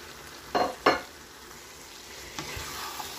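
Tomatoes and bell peppers tipped into a pan of cooked cauliflower, two quick bursts of sizzling frying followed by a softer stir and low steady crackle.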